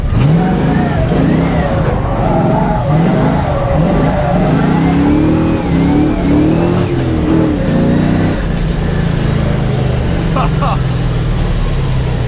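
An LS1 V8 in a Nissan S13 roars loudly while drifting, revving up and down in rapid surges with tire noise, as a person speaks in bursts over the engine.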